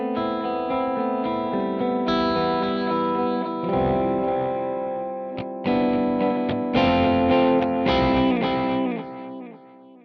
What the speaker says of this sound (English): Using the time dial, we can raise this millisecond value and have a bigger interval between the delay repeats.